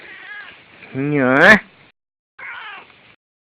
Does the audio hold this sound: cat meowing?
yes